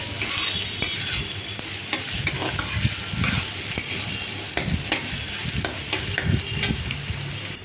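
Vegetables stirred and fried in a pan for a chow mein dish, with steady broadband sizzle and repeated scraping strokes of a spatula at close range, no voices.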